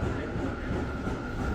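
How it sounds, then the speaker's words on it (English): Tokyo Metro Homeway limited express, a blue train run jointly by Tokyo Metro and Odakyu Electric Railway, rumbling steadily along the subway line with a continuous, even roar and no breaks. "The Metro Homeway is a limited express train that is like no other in Tokyo."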